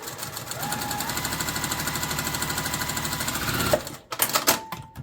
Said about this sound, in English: then we're just going to sew a 1/4 inch seam.